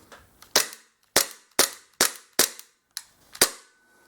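A Para Bellum P226 cap gun fitted with a barrel lock mod snaps through seven sharp, crisp cycling cracks at irregular intervals, each with a short metallic decay, close and otherwise quiet.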